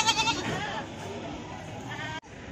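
Goats bleat at a busy livestock market in Wlingi, several quick wavering calls up close at the start, then fainter ones over crowd murmur and talk.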